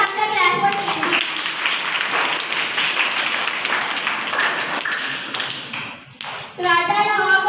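Classroom audience clapping for Team B after a correct answer in a quiz competition, a dense steady burst of many hands lasting several seconds, briefly dipping near the end before picking up again.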